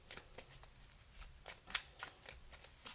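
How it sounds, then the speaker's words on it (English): Tarot cards riffle and shuffle in quick repeated bursts, soft and close, with no voices. "Let's do 3 shuffles for the waiting game."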